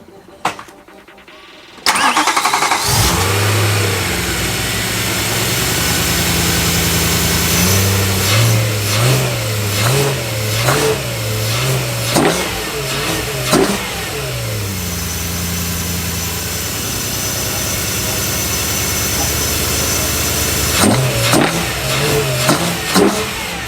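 A car engine starts and runs with no plenum or intake fitted, cranking into a loud rough idle with repeated revs and blips throughout, close and dominant, dropping back to idle between throttle bursts.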